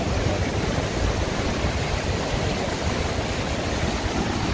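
A waterfall swollen with high water roars in a steady, dense, unbroken rush of white noise along a backpacking route between the Cline River and Pinto Lake, loud and close with no voices.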